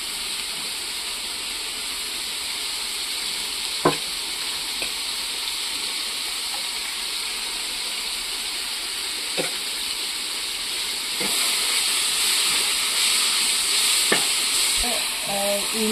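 Onion fries in a pan with a ginger, garlic and pepper paste under a loud, continuous sizzling hiss. Occasional sharp clinks come from stirring, and the sizzle swells louder toward the end.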